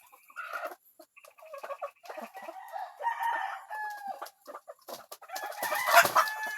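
Laying hens cluck in a poultry yard, repeated short bursts of clucking with a rooster crowing, fairly close and growing louder toward the end.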